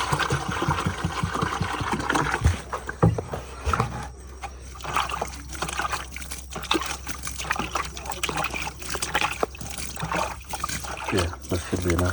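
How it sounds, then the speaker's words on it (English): Water trickles and splashes onto freshly cast cement in a village, an uneven dribbling pour with intermittent splatters, while people talk nearby. "We water it now and also in the evening."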